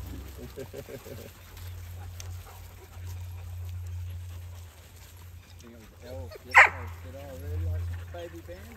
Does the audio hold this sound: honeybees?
no